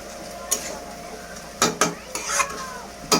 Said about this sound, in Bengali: এদিকে একটু ভাজা ভাজা হয়ে আসুক পেঁয়াজটা